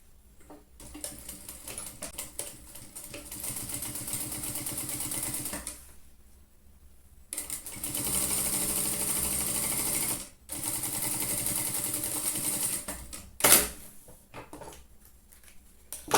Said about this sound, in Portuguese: Costurei o fundo, faço a mesma coisa, viro a costura pro lado do fundo e pesponto sobre o fundo.